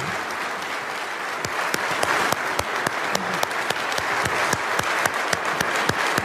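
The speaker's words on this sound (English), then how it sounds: "he got thunderous applause from a lot of Congress" Sustained, thunderous applause from members of Congress following Zelensky's address, a dense wash of clapping with sharper individual claps and occasional louder bursts rising through it, steady and loud throughout with no speech.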